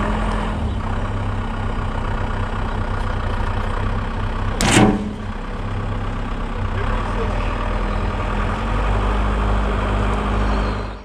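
A heavy tractor engine idles steadily at a low rumble throughout, with one brief louder bump partway through.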